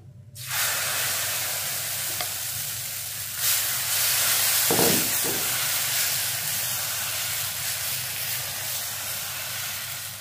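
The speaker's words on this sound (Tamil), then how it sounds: "நம்ம கலக்கி வச்சுருந்த கருவேப்பிலை பொடியோடைய தோசையை இதில் போட்டுக்குவோம்." Dosa batter mixed with curry leaf powder spread onto a hot dosa griddle, giving a steady close hiss and sizzle that swells briefly midway, with no talking.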